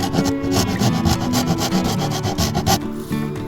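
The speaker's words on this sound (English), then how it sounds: "after a little bit of filing and modification, we got it on." Steady scraping of a file across the wooden bee escape board of a beehive as it is worked down to fit, a continuous close rasping rub with uneven strokes lasting throughout.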